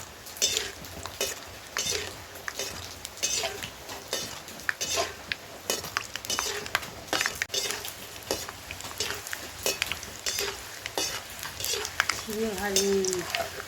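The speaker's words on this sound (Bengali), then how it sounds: "চীনা বাদাম আপনারা এরকম দিয়ে ভেজে নেবেন।" Peanuts frying in a pan, a busy crackling sizzle with frequent clinks and scrapes of a spoon stirring against the metal, close up, with a voice talking briefly over it.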